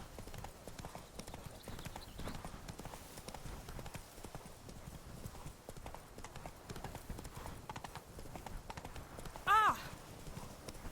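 A horse's hooves clip-clop in a steady galloping rhythm in the video game Witcher 3 Blood and Wine, joined by a short neigh near the end, with faint background game sound under it.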